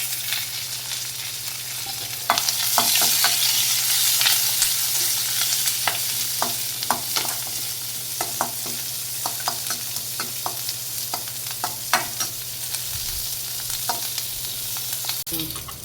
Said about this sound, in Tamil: அடுத்தது கடுகு, வெங்காயம், மிளகாயும் கருவேப்பிலை போட்டு நல்லா வதக்கிடலாம்.